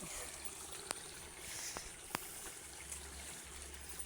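Water from a shallow creek sloshes and trickles steadily as it is collected, with a few sharp knocks and splashes standing out over the continuous close flow.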